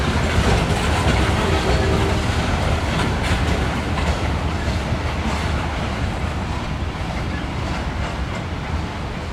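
Two diesel freight locomotives, one an ex-Southern 1969 unit running long hood forward, haul a train near Chocowinity in coastal Carolina, a steady loud engine roar with rail clatter throughout.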